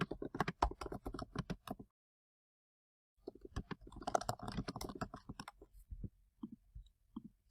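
Quick bursts of close-up keyboard clicks as a comment is typed, a dense pattering run, a silent pause, then another longer run of keystrokes that thins out into a few scattered taps.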